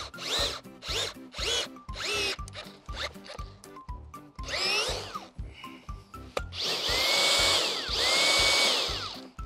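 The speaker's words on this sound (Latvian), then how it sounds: "Šis te urbis ir 100 mm, 10 cm diametrā. Un nu mēs varam sākt urbt." A 100 mm earth auger bores into heavy clay soil for greenhouse foundation posts. It gives repeated short grinding and scraping bursts with pauses, then a longer, louder churning pass near the end.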